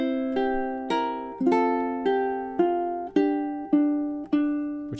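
Solo ukulele picks out the ending phrase of Scarborough Fair, about nine bright plucked notes in an even, unhurried rhythm, each ringing close and clear without any speech.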